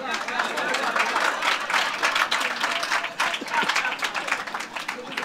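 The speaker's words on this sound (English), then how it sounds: "Clap me for that." Audience applause at a floral tribute ceremony, a loud, sustained crowd of clapping hands with scattered chatter and voices mixed in, continuous across the clip.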